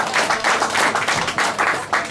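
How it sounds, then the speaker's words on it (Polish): Sustained crowd applause at a concert after poetry readings, many hands clapping at once in a dense, steady patter that swells in waves over a couple of seconds. "gromkie brawa dla wszystkich poetów"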